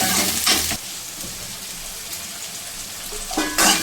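Chopped onions fry in hot oil in a pan and give off a steady crackling sizzle. Brief louder scraping bursts of stirring come at the start and the end.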